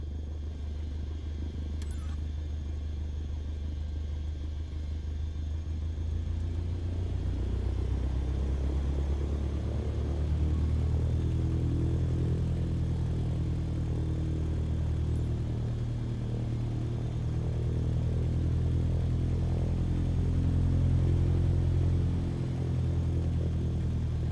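A Cessna 152 engine rumbles steadily on the runway in Microsoft Flight Simulator, a low droning hum that grows a little louder and fuller as power comes up.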